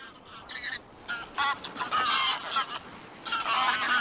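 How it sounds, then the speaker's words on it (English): Greylag geese honk repeatedly in loud, overlapping bursts, several birds calling close by in an irregular chorus in the Volga delta. "These are mostly gray-lag geese."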